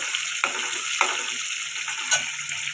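Onions and green chilies fry in a pan with a steady, fairly quiet sizzle. Three or four scraping stirs stand out at intervals.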